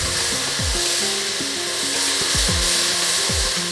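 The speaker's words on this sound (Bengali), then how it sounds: "এবার আমি ভালোভাবে একটু নেড়ে চেড়ে এগুলোকে কষিয়ে নিই।" Spice paste with Kashmiri chili powder and a little water being stirred and fried in a pan, a steady sizzle with repeated scraping strokes of the spoon against the pan.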